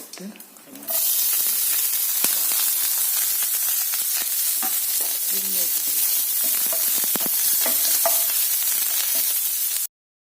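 Onion, chili, curry leaves and coconut for a watermelon rind and dal thoran hit a hot pan, bursting into a loud, steady sizzle close by, with faint stirring scrapes throughout until it cuts off abruptly.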